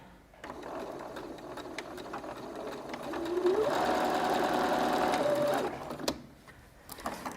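A sewing machine runs a continuous stretch of stitching, chaining several fabric pieces together one after another; a steady whirring motor with a rising pitch in the middle, fairly close and loud, stopping abruptly near the end.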